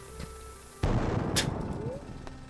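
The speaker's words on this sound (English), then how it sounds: "do not mind the sound of the explosions" A bomb detonates in the Stardew Valley video game with a sudden loud boom that rolls on as a sustained rumbling blast, with a sharp crack partway through; a faint game tone runs underneath.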